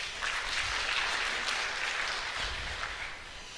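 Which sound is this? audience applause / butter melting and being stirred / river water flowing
audience applause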